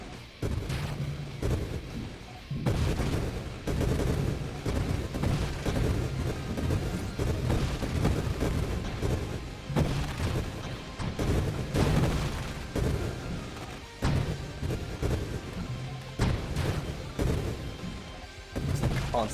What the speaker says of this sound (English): Just constant explosion noises.